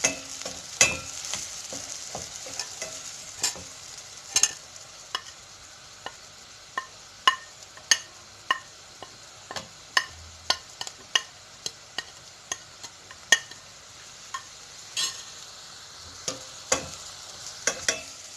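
Spice powders sautéing in a pan as the base for a Kerala-style fish curry paste, a soft background sizzle punctuated by a steady run of sharp spatula taps and scrapes against the metal, close up, no speech.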